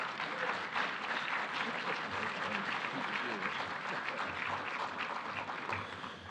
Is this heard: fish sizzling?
no